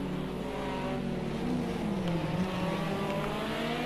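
Race car engines in the Project Cars 2 racing game roar steadily and close, with a rising and falling engine pitch as cars pass, and no talking.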